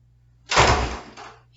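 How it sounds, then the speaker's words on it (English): An office door swung shut, one close thud with a short rattling tail and a faint second knock of the latch settling, alone in a quiet room. "Shutting the door of this office."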